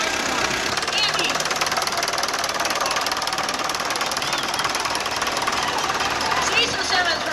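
A 1958 Ford Major antique tractor runs steadily at a heritage day festival parade in Ohio, its engine giving a loud, continuous knocking chug with broad road and crowd noise around it.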